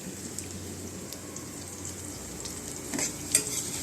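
Onions frying gently in a pan while being stirred, with a steady soft sizzle and scraping stir sounds throughout, a slightly louder clatter near the end, no talking.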